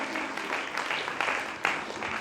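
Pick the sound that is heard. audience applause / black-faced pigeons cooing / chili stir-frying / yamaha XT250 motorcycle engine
audience applause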